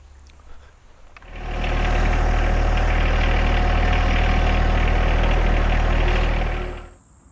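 A John Deere 1025R compact tractor's heavy diesel engine starts and runs with a loud, steady low rumble for several seconds before shutting off.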